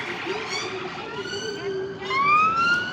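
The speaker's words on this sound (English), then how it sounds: "Another police car going past." A police car siren sweeps past on a London street during Westminster protests, its wailing tone rising and climbing louder toward the end over a backdrop of traffic and crowd noise.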